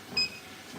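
A treadmill gives one short, bright electronic beep. It is faint and heard alone against quiet room noise.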